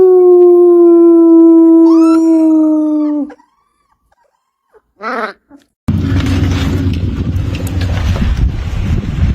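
A dog howls outdoors in cold weather with a long, loud, sustained wavering tone that breaks off, then a short yelp after a pause, followed by gusting wind noise on the microphone.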